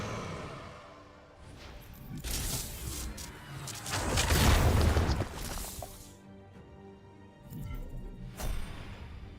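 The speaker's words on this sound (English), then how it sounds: "There appears to be a very large explosion coming our way." A large explosion in the Warhammer 40,000: Chaos Gate – Daemonhunters video game, heard as a loud, rumbling blast that swells over a few seconds, with crashing debris and a later secondary burst.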